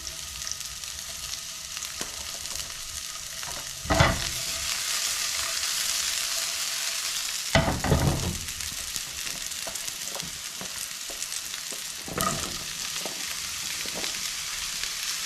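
Oyster mushrooms, sweet peppers and wild ginger fry in a pan with a steady close sizzle, punctuated by a few louder stirring scrapes and clanks.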